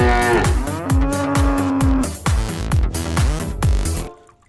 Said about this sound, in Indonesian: Wow, keluarlah sapi betina.